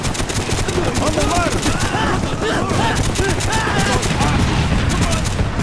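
An M60 machine gun firing in Call of Duty: Black Ops, loud, close and sustained in rapid rhythmic bursts, with other gunfire and game sounds layered in and a voice speaking over it.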